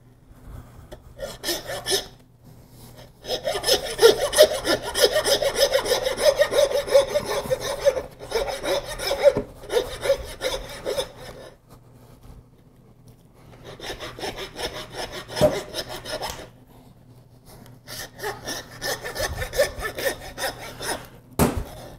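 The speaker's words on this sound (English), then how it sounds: "when you're sawing, you're not sawing through muscle, just through bone." A hand saw rasps in rhythmic back-and-forth strokes through hog bone, working in bursts separated by short pauses.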